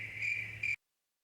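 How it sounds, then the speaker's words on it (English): A looping cricket chirping sound effect plays steadily and fairly quietly during a tabletop role-playing stream, a continuous insect trill that cuts off abruptly into silence. "He's still got those crickets going."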